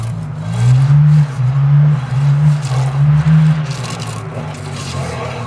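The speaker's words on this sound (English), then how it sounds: "I'll run this tube scraper in here. And if you see it, it'll pull the stuff when you come backwards." A tube scraper drags through crud inside a locomotive boiler tube, giving a close, steady grinding scrape with a low droning tone that surges and eases over several seconds.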